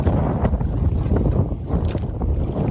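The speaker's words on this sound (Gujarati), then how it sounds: "પવન છે ને બહુ છે" Strong wind blows at sea, a steady gusty roar buffeting the microphone with low rumbling and no voices.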